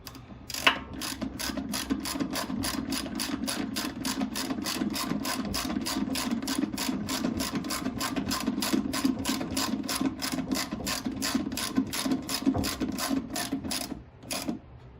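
A fast, continuous ratchet clicking runs for about fourteen seconds at a steady pace while a nut is tightened on a Predator 9000 watt generator, close and moderately loud, ending with a brief pause and a final click.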